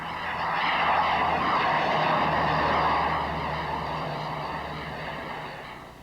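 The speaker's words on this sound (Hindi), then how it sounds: "जब जब इस तरह हवाई जहाज गुजरता है ना" An airplane passes overhead at night, its steady broad engine roar swelling in and then slowly fading over several seconds, with no talk.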